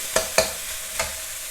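Minced pork with holy basil and long beans stir-fried in a pan: three distinct spatula scrapes and tosses over a steady sizzle, close and fairly loud.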